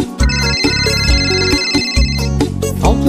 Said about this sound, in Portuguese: o telefone tocou.